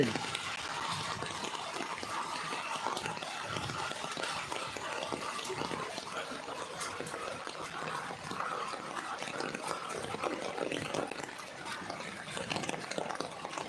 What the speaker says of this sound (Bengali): অনেক বৃষ্টি হচ্ছে দেখতেই পাচ্ছেন অনেক বৃষ্টি হচ্ছে